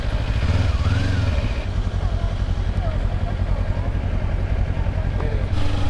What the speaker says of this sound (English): You try to buy a 500cc bike. Kids want to hear it. Sounds like junk.